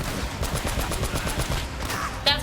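Rapid turret gunfire in the video game Uncharted rattles on in a dense, steady stream of loud shots, with a brief sharp game effect near the end and no speech over it.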